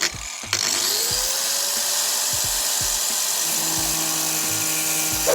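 An angle grinder cuts slots into tight, rusted screws on a Ford Transit camper van, spinning up with a rising whine into a loud, continuous high-pitched grinding that holds steady throughout.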